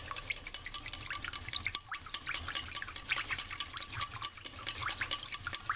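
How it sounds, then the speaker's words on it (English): A whisk is beaten briskly through a honey teriyaki marinade in a bowl, giving a fast, even run of light clinks and wet ticks close up, with no voices. "And now we're going to whisk it all together like this."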